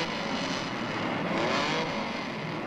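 Race car engines idling and revving together on the grid at Fuji Speedway before a 1999 grand touring car race, including a Fairlady 240Z, a steady loud dense roar throughout with no talk.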